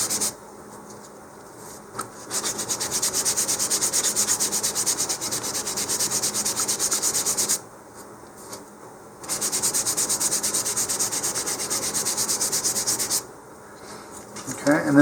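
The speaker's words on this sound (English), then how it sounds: "just take your sandpaper, sand with the grain, smooth out" Sandpaper rubbed with the grain across balsa rocket fins makes a steady, close scratchy hiss in long strokes, pausing briefly near the two-second mark and again around eight and thirteen seconds.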